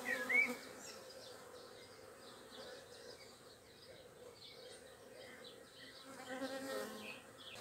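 Bees in a crowded beehive make a soft, steady droning buzz that carries on throughout, fairly quiet and close, with slight swells in loudness.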